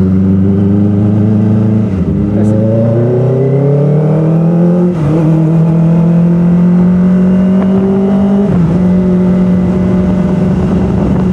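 Kawasaki ZX-25R limited edition motorcycle engine screaming at high RPM, loud and close, pitch climbing through successive gears with brief dips at each shift, the sustained howl continuing without talk.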